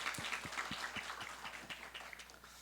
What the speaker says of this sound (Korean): 최고 영광의 박수를 다시 한번 힘있게 올려드립시다